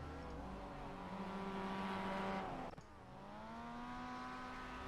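A Mazda MX-5 Cup race car in iRacing holds a steady, loud engine drone that climbs in pitch, breaks off at a sudden gear shift, then rebuilds as the engine revs back up.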